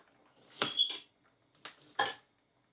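A tomato is cut into fine pieces with a knife, giving a few separate, crisp knocks and clicks spaced apart, quiet and close with silence between them.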